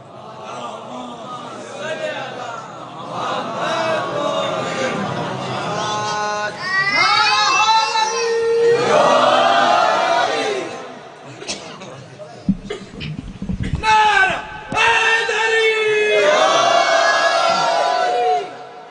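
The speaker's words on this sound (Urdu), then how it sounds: "نعرے صلوات سے استقبال کریں" A religious gathering at a Shaban celebration in an Azakhana raises loud rhythmic chanted salutations to welcome a reciter, many voices calling together in repeated surges with brief pauses between them.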